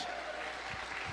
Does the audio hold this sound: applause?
yes